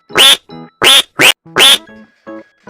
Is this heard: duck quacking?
yes